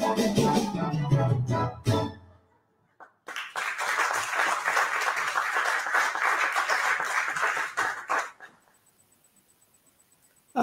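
An audience claps and cheers for several seconds, a dense burst of applause that follows brief music and cuts off abruptly into near silence.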